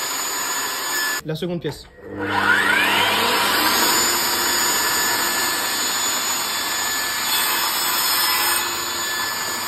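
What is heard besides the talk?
Mafell Erika 85 saw cutting wood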